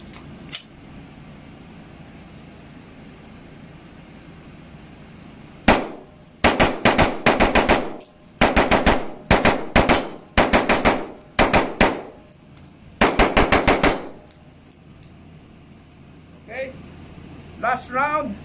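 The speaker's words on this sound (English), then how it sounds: "we're just gonna try now the SP9-A3 using Armscor ammunition with a 30 round magazine" A Stribog SP9-A3 fired rapidly with Armscor ammunition from a 30-round steel-lined magazine: loud, close bursts of sharp shots in several quick clusters, each string a dense rattling run, with short pauses between them and quiet background otherwise.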